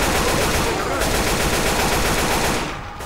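Dense automatic gunfire in Left 4 Dead 2, a continuous loud rattle of rapid shots filling the whole stretch before easing off near the end.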